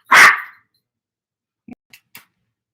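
A single loud close dog bark bursts out at the start, followed by a few faint, brief noises and near silence.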